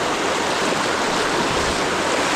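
A river runs with a strong current, making a dense, unbroken rush of water that holds at an even, fairly loud level throughout. No voices are heard.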